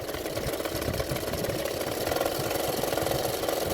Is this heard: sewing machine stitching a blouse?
yes